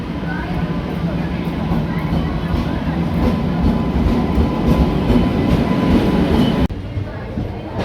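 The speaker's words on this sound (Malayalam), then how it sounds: "ട്രെയിൻ വന്നു ഗൈസ്" A train rumbles past close by in Ernakulam, loud and steady with rhythmic clattering of wheels on rails, then cuts off suddenly near the end.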